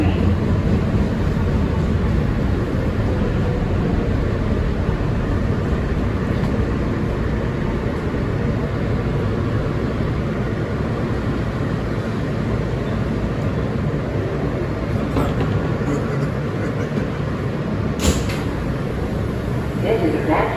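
An R160B Siemens car on the New York City Subway N line from Coney Island rumbles along in a steady, loud, continuous roar with faint squeals and clanks near the end, heard from inside the car.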